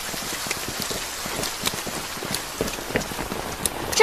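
Heavy rain pours steadily onto surfaces, a dense continuous patter with scattered sharper drops throughout, no voices heard.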